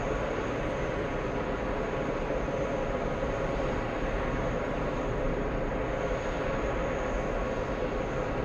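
Airbus A340 airliner on final approach at JFK, a steady, loud broadband engine roar with a constant whine that holds evenly throughout.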